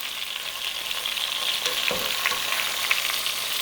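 Chicken pieces for an allergy-free braised chicken sear in a hot pan, giving a steady, close, moderately loud sizzle that crackles on without pause and with no voices over it.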